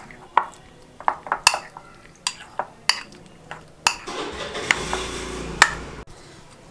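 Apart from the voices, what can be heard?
chicken pieces being mixed in beaten egg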